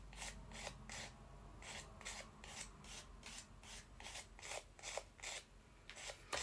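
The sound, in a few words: filing the edge of a metal clay piece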